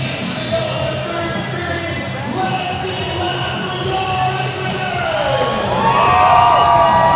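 Standing-room-only crowd at a Reno ice hockey game between the Ice Raiders and McCall Mountaineers, a dense steady roar of cheering and shouting voices that swells louder toward the end, with whoops rising above the din.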